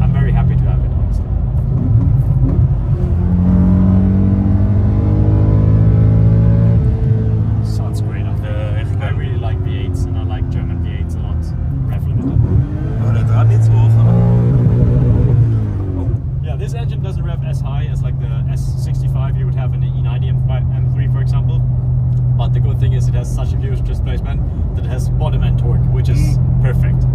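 A BMW E39 M5 drives on a long road trip across America, its engine and road noise a steady low drone heard from inside the cabin while a person talks over it throughout.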